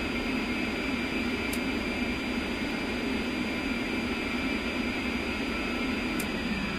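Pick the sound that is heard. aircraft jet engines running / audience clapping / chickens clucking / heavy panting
aircraft jet engines running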